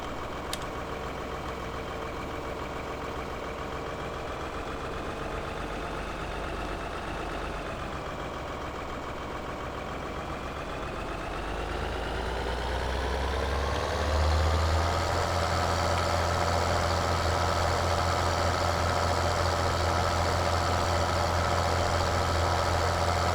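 A tractor engine in the Farming Simulator 2013 game idles at a steady drone, then revs higher partway through and holds a louder, deeper hum to the end, with no talk over it.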